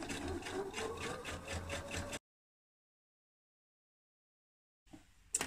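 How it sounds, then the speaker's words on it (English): A sewing machine runs a steady, rapid stitch down a Closet Core Kalle shirt seam along a guide for about two seconds, then stops; silence follows before a short clatter of handling. "I'm going to sew all the way down using this guide"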